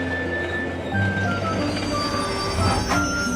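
A cartoon train rolls by loudly with a steady rumble, and a high thin squeal from the wheels runs through the sound. No one speaks.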